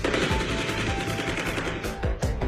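Dense, continuous bursts of automatic gunfire from armed robbers in Campinas, São Paulo, loud and sustained, with a few sharper individual shots near the end.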